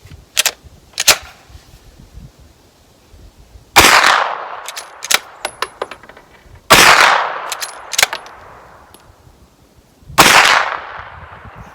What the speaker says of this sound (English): I've got some 115 grain full metal jacket.